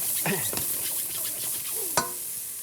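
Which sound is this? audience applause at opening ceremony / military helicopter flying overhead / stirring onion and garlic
stirring onion and garlic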